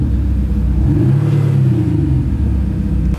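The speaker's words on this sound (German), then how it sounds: "Startet doch mal den Motor." Audi SQ5 fitted with an active sound system module, its engine running loud and close with a steady low rumble that swells into a rev and settles back over about three seconds, no talking.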